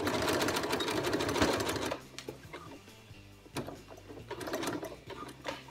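A straight-stitch sewing machine runs fast along a jeans zipper seam for about two seconds, then stops and restarts in shorter bursts, close and clear with no voices.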